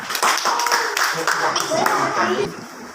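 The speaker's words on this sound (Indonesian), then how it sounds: "tepuk tangan untuk kelompok nelayan" Classroom clapping for a group of fishermen during a school lesson, with a cluster of hand claps under children's and a teacher's voices.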